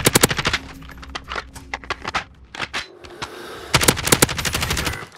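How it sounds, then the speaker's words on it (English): Rapid automatic gunfire in a shooter video game, with loud, close bursts of evenly spaced shots, a short gap with scattered single shots, then another fast burst. "I'm getting shot from behind."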